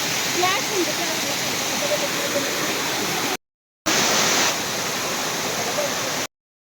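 Mundaje falls, a small waterfall, roars as a steady close broadband rush of falling water, continuous apart from a brief cut to silence midway and at the end.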